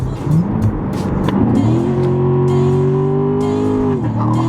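A Nissan Skyline R32 GT-R engine revs hard with a sustained rising whine, tires spinning loudly and steadily for several seconds before the pitch drops near the end.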